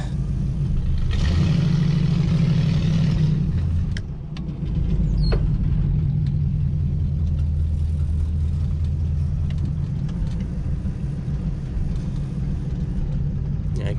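An old car engine rumbles steadily at low pitch while driving, with a brief revving swell near the start, continuous and close throughout.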